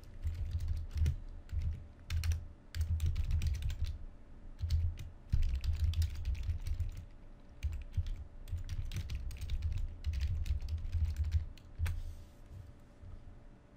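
Fingers type on a computer keyboard in quick bursts of clicky keystrokes, close and clear, with short pauses between runs and a faint steady hum underneath.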